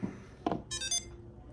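A Samsung Galaxy SmartTag 2 tracker gives a short electronic chime, a quick rising burst of a few bright tones after a soft tap, close and fairly quiet, with no talk.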